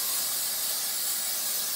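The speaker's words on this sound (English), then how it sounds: "So why are you gonna spray them?" Cooking oil spray hisses onto food in one steady, bright burst lasting just under two seconds, close by and without voices.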